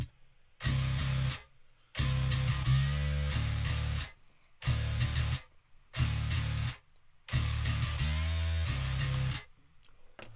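A distorted track from a music mix plays alone in chopped bursts, with heavy low end and buzzy, saturated upper harmonics cutting in and out in short sections separated by near silence.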